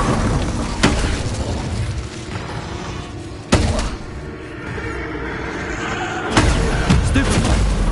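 Incendio fire spell cast in Hogwarts Legacy, heard as three sharp bursts spaced a few seconds apart over a steady, loud layer of game noise.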